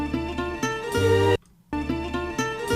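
Chopped guitar tones from a Japanese vinyl record sample play in short, tonal bursts over a beat, cut off by a sudden silent gap before the passage resumes, with no talking.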